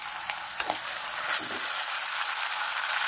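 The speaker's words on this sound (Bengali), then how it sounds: "এবার আমি কচুর শাকটা দেবো।" Boiled taro leaves (kochur shak) hit a hot frying pan and sizzle loudly and steadily, with a few sharper crackles and stirring scrapes near the start and no talking.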